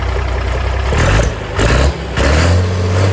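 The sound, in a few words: Massey Ferguson tractor engine revving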